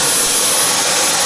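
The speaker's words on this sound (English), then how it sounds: "that's a really good vacuum" A vacuum cleaner runs steadily and loudly throughout, a continuous high whine and rush filling a brief burst, used to clean a desk, with no talking over it.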